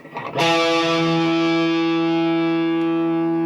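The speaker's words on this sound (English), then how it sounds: "you can just turn the distortion up to get sustain" A single distorted electric guitar note or chord struck once, then ringing out with long, steady sustain and rich harmonics, loud and close with a touch of effects-unit reverb and no talking.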